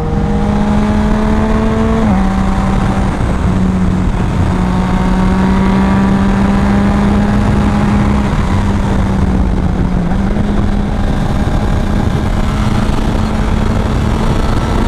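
A Kawasaki ZX6R motorcycle engine revs hard while being ridden, a loud, close, continuous high-pitched wail that climbs through the gears with brief drops at each shift and wind rush underneath.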